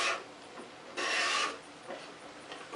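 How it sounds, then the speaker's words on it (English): A homemade hand scraper rasps across a wooden board in repeated strokes, with one longer, louder scrape in the middle and softer strokes around it, close and with no voices. "This was one of my homemade scrapers you can see in one of my videos"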